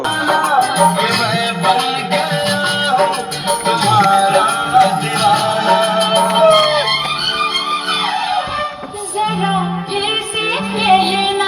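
A song plays from a small speaker box on a farm tractor in the field, with melodic vocals and instruments running continuously, slightly tinny and close.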